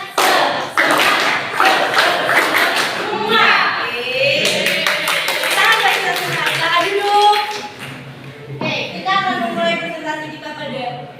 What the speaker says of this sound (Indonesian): Tepuk semangat.